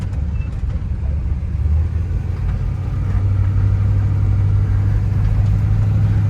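A 1978 Chevrolet Suburban 4x4 fitted with a Blueprint crate engine drives along, its steady low engine drone getting louder and heavier partway through, with no talking.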